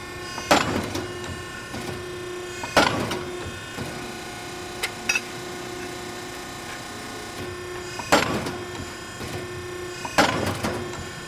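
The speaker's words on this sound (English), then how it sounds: "we need to get some holes in there" A Piranha P-65 ironworker punches holes in steel, giving four loud metallic clunks spaced a couple of seconds apart over a steady machine hum, with no voices.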